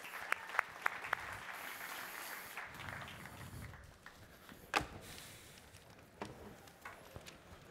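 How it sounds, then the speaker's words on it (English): Faint, scattered applause from a panel audience, a few sharp isolated claps at first, then thinning into sparse pats over low room noise. "So a hand of applause for our panelists today."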